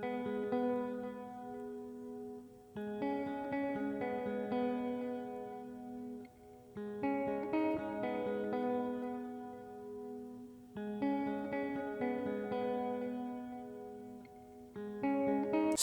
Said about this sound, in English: I introduced a brand new guitar. Now that guitar sounds like this.